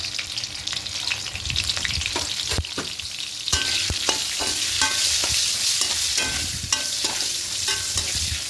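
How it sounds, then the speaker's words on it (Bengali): Pieces of pointed gourd with salt and turmeric fry loudly in oil, a dense crackling sizzle with frequent scraping and stirring knocks against the pan, close and continuous. "এবার পটলগুলোকে লাল লাল করে ভেজে নেবো"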